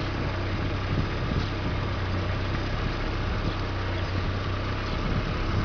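A Peugeot car engine idles close by with a steady low hum and a constant rumble, carrying the odd noise under the even drone.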